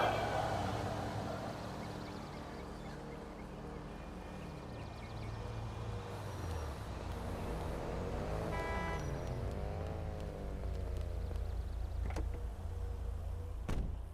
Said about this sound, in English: A car has been sent. Should be with you soon.